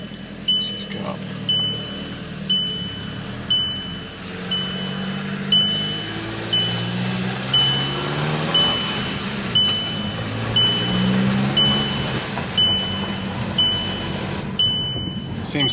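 A rebuilt VW Golf GTI engine hums steadily while driving, rising and falling through gear changes under road noise, with a repeated electronic beep chiming throughout.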